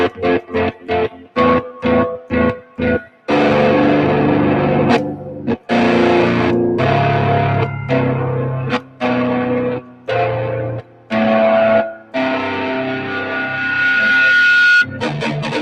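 A driven Fender one-channel amp pushing a distorted electric guitar, opening with a string of short choppy stabs, then sustained crunchy chords and riffs with brief gaps, loud and close with some echo.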